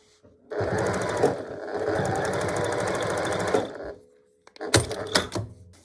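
A sewing machine top stitches a square pot holder, running in one fast, steady buzzing burst of about three seconds up close, then a few short, sharp clatters and bursts after a brief pause.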